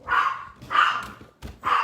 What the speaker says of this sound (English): they're just going to keep barking